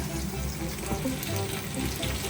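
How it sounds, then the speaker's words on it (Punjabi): Chicken pulao ingredients lightly fry in a pan, a dense continuous sizzle with a low bubbling undertone, steady and close. "ਨਾਲ ਹੀ ਮਾੜਾ ਜਿਹਾ ਭੁੰਨਣਾ ਤਕਰੀਬਨ 10-15 ਸਕਿੰਟ"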